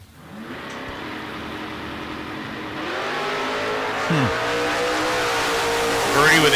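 Drag race cars launch and roar down a racetrack, a loud, sustained engine blast that builds as they pull away, with faint crowd and announcer sound mixed in.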